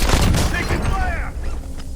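Gunfire in Warzone, a loud burst of rapid shots and booming impacts up front that fades into lingering rumble and whizzing ricochet-like tails.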